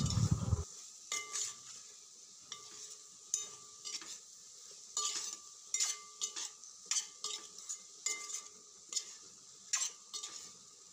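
Potatoes coated in chili powder and salt are stirred in a pan, with rhythmic scraping strokes of a utensil against metal, each a crisp scrape over a faint sizzle.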